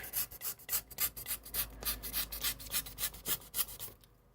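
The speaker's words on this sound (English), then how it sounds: "just doing my backwards and forwards action with my knife until I get it fairly rounded" A hobby knife carves back and forth to round the foam edges of an Endor diorama piece, making a rapid, regular rasping scrape of many short close strokes before the sound stops.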